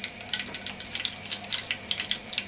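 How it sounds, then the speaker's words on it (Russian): Tiny quail cutlets crackle and spit in hot oil in a pan, a light, irregular popping sizzle close by. "Мы жарим наши микро-микро котлеты."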